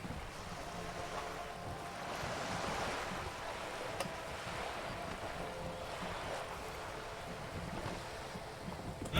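Wind rushes around a boat sail in Disco Elysium, a soft, steady blustery wash with gentle swells and faint flapping, quiet and continuous with no voices.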